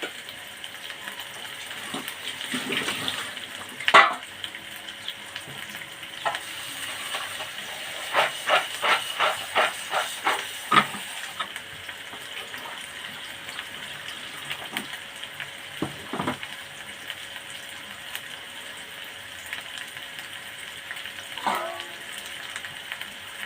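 Onions, green chillies and curry leaves frying in a hot pan give a steady steamy hiss with scattered clatter and sharp taps, continuous and close, with no talking.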